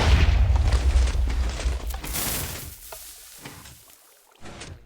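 Minecraft TNT cannon blasts open with a heavy, loud boom that decays into scattered crackling bursts and softer thumps, ending in a final short blast.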